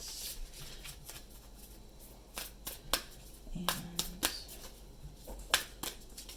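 Oracle cards are shuffled by hand in a quiet room, with soft riffles and several crisp snaps and flicks scattered across a low steady background hiss.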